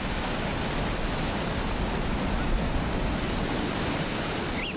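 Ocean waves crash over the rocky shoreline of a seabird island, a dense, steady roar of surf with no distinct individual breakers, constant and enveloping.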